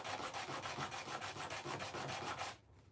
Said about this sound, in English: So this is a fresh piece of sandpaper.